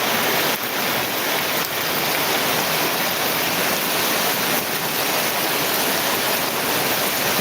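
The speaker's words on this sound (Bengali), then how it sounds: "বাগান ডুবে গেছে অলরেডি যে পানি আর পানি পানি আর পানি" Floodwater rushing through a garden swamped by heavy rain, a loud, unbroken roar of moving water with no pauses and no voices.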